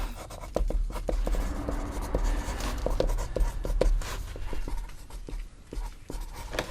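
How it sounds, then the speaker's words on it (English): Pen writing a list on paper aboard a narrowboat, a run of quick scratchy strokes and taps with brief pauses, close and clear. "I'm going to write out a nice little list"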